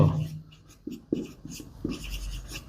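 Pen or marker strokes across a writing surface as a sentence is written out by hand, a string of short scratchy taps and scrapes at close range with no talking.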